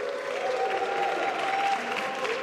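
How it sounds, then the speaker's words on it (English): A debate audience cheers and applauds when asked to, giving a steady wash of clapping and crowd noise for a couple of seconds at moderate distance. "Can we get a big cheer for the camera?"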